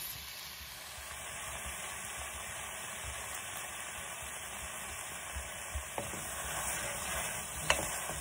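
Chopped carrots and parsnips cooking down in a pan for soup, giving a soft, steady sizzle with a few faint clicks and knocks. It stays quiet throughout, with no talking.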